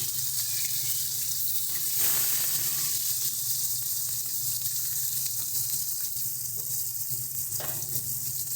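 Pieces of rohu fish fry in hot oil in a pan, giving a steady, close, continuous sizzle and crackle throughout with no talking.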